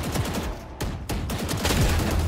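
Rapid gunfire in the tactical shooter Valorant, a dense spray of sharp cracks and bursts running loud and close throughout, with brief gaps between volleys.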